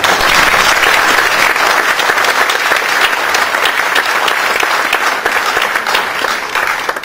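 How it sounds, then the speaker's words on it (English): Sustained audience applause fills a lecture hall at an ecosystem studies institute, a dense, steady wash of many hands clapping close and loud for about seven seconds, fading slightly at the end. "Barack Obama gets the Nobel Prize and I get nice applause."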